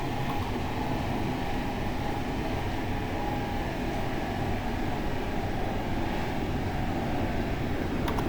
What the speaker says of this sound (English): Northbound MARC.